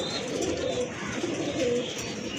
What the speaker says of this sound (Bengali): কালার লাহোরি কবুতর